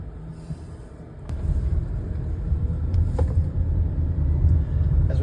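A high-mileage car drives through neighborhood side streets in second gear at about 3,700 RPM, its engine rumbling low and steady. The sound grows louder after the first second, with occasional light clicks and wind noise.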